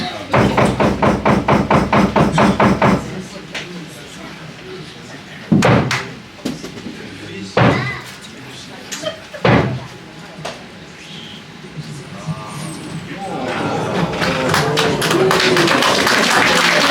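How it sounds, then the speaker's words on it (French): Three loud theatre knocks struck before a show at a small theatre, each a sharp single bang with a gap between them, following a burst of rapid tapping and talk, with crowd noise rising afterward. "nous allons frapper les 3 coups"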